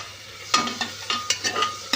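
Tomatoes with garam masala being sautéed in a pan: a low sizzle broken by a quick series of spatula scrapes and stirring clacks, close and alone.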